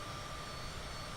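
Steady droning engine hum of a small Cessna aircraft in a flight simulator game, flying at night, a continuous, even cabin-level rumble with no voices.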